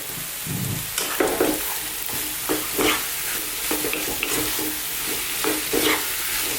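Turmeric and Kashmiri chili powder sizzle in a pan of tomato chutney while a spoon stirs, giving a steady frying hiss with intermittent scraping strokes, close and fairly loud.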